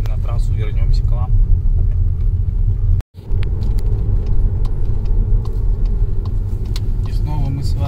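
A 2020 Skoda Superb iV 1.4 plug-in hybrid rolls along a country road, a steady low rumble of tyres and cabin noise heard from inside, briefly cut out once, while someone talks over it.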